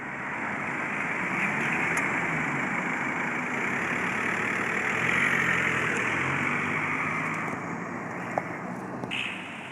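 Car engines idle and rumble in a small town's street traffic, a broad steady drone that swells slightly toward the middle, with a faint click near the end and no speech.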